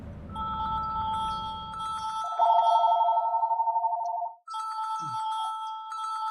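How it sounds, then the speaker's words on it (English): A phone ringtone chirps repeatedly and loudly in a steady electronic pattern, pausing briefly before ringing again, over the low rumble of a truck driving game that cuts out partway through. "I got a phone call."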